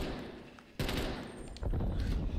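Gunfire in Call of Duty Black Ops Cold War, Ground War mode: dense bursts of automatic shots that start abruptly and swell louder partway through, continuous and close, with no voices over it.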